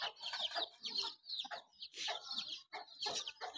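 Chickens cluck in a row of quick, close bursts inside their pen, with scattered higher squawks and no voices over them.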